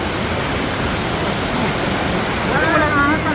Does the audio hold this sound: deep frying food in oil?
no